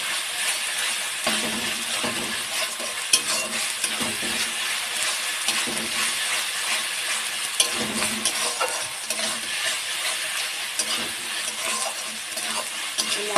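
Spices, ginger, garlic and onion being sautéed in a pan while chicken curry is made, giving a steady close sizzle with frequent stirring scrapes and light clinks throughout, with no talk.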